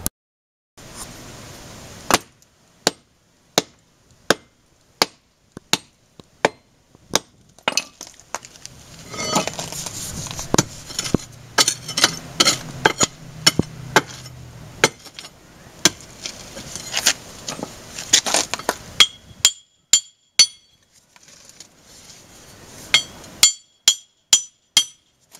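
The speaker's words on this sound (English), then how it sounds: "I'm going to be using my pry bar, which I picked up recently at a sale, and my 48-ounce engineering hammer to do that with" Wall struck with a 48-ounce engineering hammer and pry bar during home wall maintenance, a long series of sharp, close metallic whacks and clinks, irregularly spaced, with a stretch of scraping and rattling debris in the middle.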